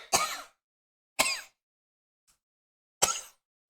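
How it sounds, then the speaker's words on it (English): Three short, dry coughs or throat clears, close by and spaced apart with silence between them. "coughing again"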